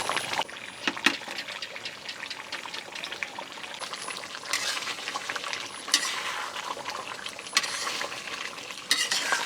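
Hog plum pickle with crushed garlic is stirred in a pot over heat, giving a continuous wet bubbling sizzle with occasional louder scraping stirs, close and without voices.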